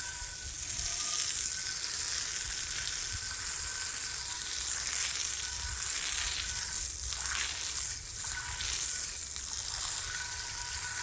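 Water sprays hard and steadily from a garden hose as a birdbath is rinsed out, a close, continuous hiss that holds for about ten seconds.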